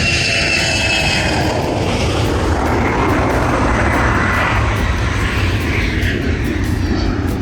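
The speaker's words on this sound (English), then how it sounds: "And the plane taking off behind me. It was really loud." A loud, steady roar of a jet airplane taking off at St Thomas, heard near the water, broadband and continuous throughout, close by with no talking.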